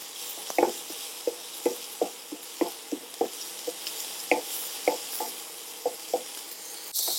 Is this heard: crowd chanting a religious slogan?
no